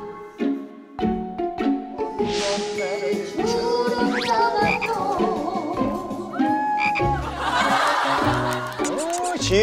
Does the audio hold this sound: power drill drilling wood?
no